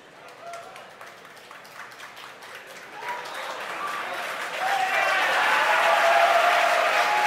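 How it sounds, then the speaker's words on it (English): A crowd at a rocket launch cheers and applauds, starting with sparse scattered claps and a voice, then swelling into loud continuous cheering and clapping that keeps building toward the end. "You hear the crowd cheer behind me."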